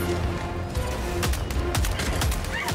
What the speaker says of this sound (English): Why is there a Gatling turret inside the tank?